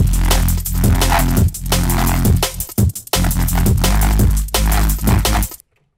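A loud, dense neurofunk synth bass preset made in Phase Plant growls and churns continuously, thick and distorted with shifting tones and brief dropouts, ending abruptly in silence.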